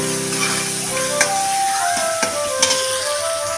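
Ginger and spices sizzling as they are sautéed and stirred in a pan for a pointed gourd dish, a steady close frying hiss with a few sharp utensil clicks and a faint tonal hum underneath.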